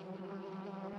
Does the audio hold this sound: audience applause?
no